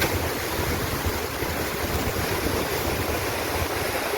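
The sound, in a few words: river water flowing toward Bhadar dam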